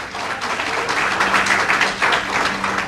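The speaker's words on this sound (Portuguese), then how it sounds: "Para Jesus, pode aplaudir" A church congregation applauds, a dense wash of many hands clapping together that swells and stays loud for a few seconds.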